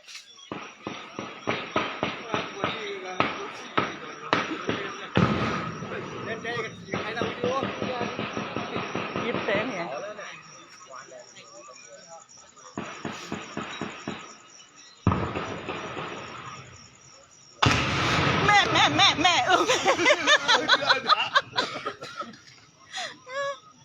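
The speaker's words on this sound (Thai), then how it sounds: "ได้ยินไหมคะเสียงปืนพม่าค่ะ" Sharp rapid bursts of Burmese army gunfire, some in fast repeated rattles, others spaced apart, with pauses of quiet between loud clusters, during a Karen KNLA assault on a Burmese army base near the Thai border.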